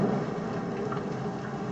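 Steady rain and low thunder rumble in the video game Kentucky Route Zero, a dense, continuous wash of rainfall with a deep rolling undertone, with no talking.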